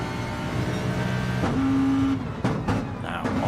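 Race cars in a GTTCC final-round circuit race power out of corners, with a loud, steady engine drone throughout, a brief higher-pitched whine and a few sharp transient bursts toward the end.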